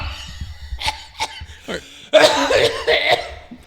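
Several people cough in a few sharp, close bursts that turn into a louder cluster of coughing mixed with laughter, in an indoor group setting.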